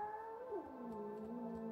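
A long-haired cat cries while being brushed, giving a drawn-out, wavering meow that bends in pitch. The sound is fairly quiet and close, with no talking over it.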